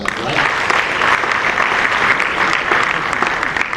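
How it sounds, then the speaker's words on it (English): Sustained audience applause at an international development event, steady dense clapping from a sizeable crowd throughout. "I think he deserves bigger applause than that,"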